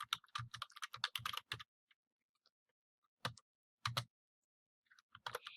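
Typing on a computer keyboard while a references page is formatted, with quick bursts of crisp close key clicks separated by silent pauses and no talking.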